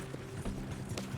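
Horses gallop in Red Dead Redemption 2, a steady patter of hoofbeats with no voices over it.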